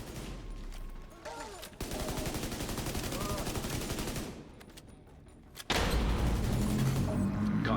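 Rapid bursts of automatic gunfire in a video game, with two long rattling volleys separated by quieter stretches and a sudden loud blast near the end, close and heavy, with a voice talking faintly in between.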